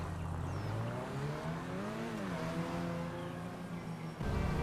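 A Grotti Bestia GTS sports car in GTA 5 pulls away, its engine droning loudly and rising in pitch as it revs through a gear, then dipping before a fresh surge near the end; no talking.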